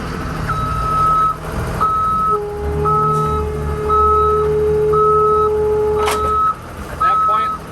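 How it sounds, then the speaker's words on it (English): Hostling tractor, or yard goat, backing up toward a trailer's fifth wheel, its reversing alarm beeping in a steady repeated pattern over a rumbling diesel engine and a brief hiss near the end. "And I'm going to continue going reverse."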